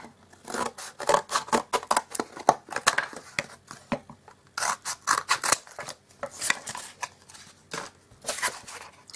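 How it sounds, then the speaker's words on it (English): Scissors snip repeatedly through craft material along a marked line, quick, rhythmic runs of cuts, close and crisp, with a brief pause midway before the snipping resumes. "So I'll take my scissors"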